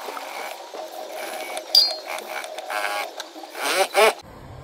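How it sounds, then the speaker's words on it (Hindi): A sewing machine runs a seam on palazzo pants, stitching over an earlier guideline stitch with a steady mechanical whir and a few sharper clicks and bursts near the end. "अब जो सिलाई हमने लगाई थी गाइडलाइन वाली, उसी सिलाई के ऊपर हमें सिलाई चलानी है।"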